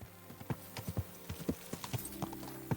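Horse hooves clip-clop in the Kingdom Come: Deliverance II video game, a close, steady walking rhythm of sharp knocks over a soft background.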